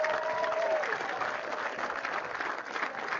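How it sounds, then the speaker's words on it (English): Crowd applause fills the stands at a high school football game between Grey-New Gloucester and Waterville, a steady dense wash of clapping that holds evenly throughout, with a brief faint voice near the start. "let's keep that applause going again, once time for our senior athletes"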